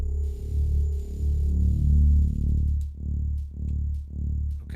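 Soloed grain pulses from the FRMS granular synthesizer on iPad, deep low swelling tones that break into a regular train of rhythmic pulses, clear and alone.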